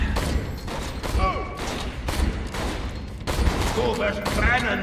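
Dense bursts of gunfire from the video game Borderlands 2, sustained loud fusillades with rapid repeated shots and thuds, with voices talking over the shooting.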